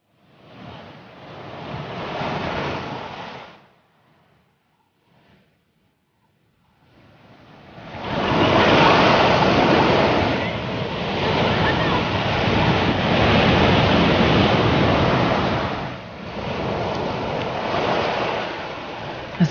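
Sea waves breaking on a sandy beach, a loud broad wash that swells, drops away to near quiet for a few seconds, then surges back and rolls on steadily; no speech.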